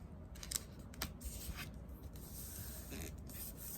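Vinyl car decal being rubbed down by hand onto a surface, a soft steady scraping rub with a few brief sharper strokes, close and quiet with no talking.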